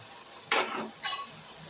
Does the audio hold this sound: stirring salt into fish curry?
yes